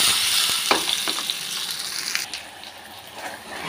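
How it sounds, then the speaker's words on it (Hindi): Spinach koftas hit hot oil in a frying pan, giving a close, steady sizzle and crackle with a few sharper pops near the start, fairly soft and without speech. "ऑयल गरम कर लिया है और इसमें कोफ्ते डाल देंगे"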